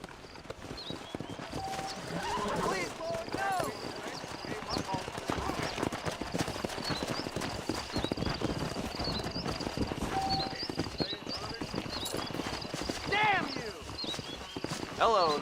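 Horse riding through wilderness in Kingdom Come: Deliverance, set in 1403 Bohemia: steady rhythmic hoof clip-clop with occasional snorts and a whinny, running under continuous narration and game ambience.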